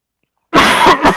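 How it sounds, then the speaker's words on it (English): A single sharp cough after silence, close and loud, followed by a short second burst. "Oh, that was almost a cough sneeze."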